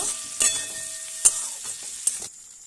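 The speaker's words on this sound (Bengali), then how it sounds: "এখানে পেঁয়াজ, ক্যাপসিকাম, টমেটো, আদা রসুন আর কাঁচা লঙ্কা, এটাকে আমি ফ্রাই করে নিলাম।" Onion, capsicum, tomato, ginger, garlic and green chilli fry in a pan, a soft sizzle punctuated by three sharp utensil clinks before it fades quiet.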